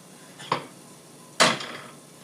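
A lid set over a frying pan on the stove, heard as two sharp metallic clanks about a second apart, the second louder, with a short ringing decay in a quiet kitchen.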